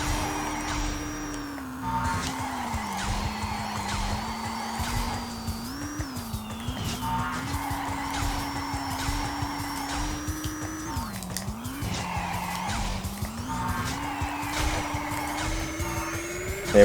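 Kart engines drone and whine through a race in the Crash Nitro Kart video game, a continuous buzzing tone that rises and falls with brief dips as the kart slides, backed by game music.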